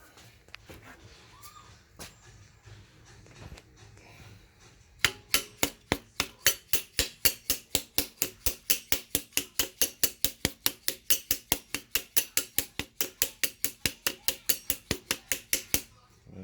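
Rapid, evenly spaced sharp taps drive a piston with forged rods into an engine cylinder, close and crisp, continuing steadily for over ten seconds after a few scattered handling knocks.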